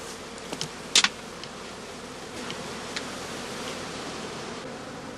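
Honey bees fly in and out at the open entrances of a field of straw skep hives, a faint, steady insect hum with a few brief sharp knocks early on and no voices.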